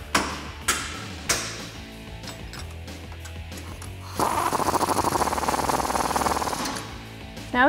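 A 19 mm socket and wrench tighten a nut on a 1997–2006 Jeep Wrangler TJ lift kit: a few sharp clicks at the start, then a fast, steady ratcheting burst, loud and close with no talk.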